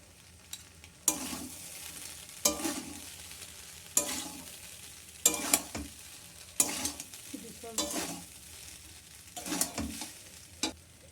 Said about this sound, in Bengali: এবার এটা দিয়ে মিক্স করে নেবো।